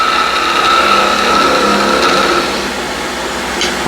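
A wood lathe spins steadily as a tool cuts into the turning wood, making a loud, continuous whirring hum with a faint scraping texture and small shifts as the cut changes.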